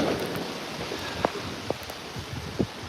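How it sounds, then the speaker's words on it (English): Rain falls steadily on a Brooklyn street, a soft continuous hiss with a few sharper drips and splashes standing out now and then. "This is Josh here in Brooklyn walking through the rain."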